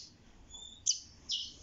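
A young nino bird chick with a broken right thigh gives thin, high chirps: a faint drawn-out peep, then two louder, sharper calls, close by with quiet background.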